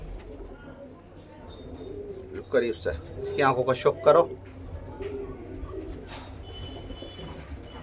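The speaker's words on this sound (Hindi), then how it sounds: "लो भाई ये देखो बिल्कुल सफ़ेद कबूतर है" A white pigeon gives a few soft, throaty coos close by, heard under and between a man's speech against a quiet background.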